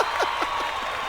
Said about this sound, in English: I'm going to give it a clap because I feel like I've done decent.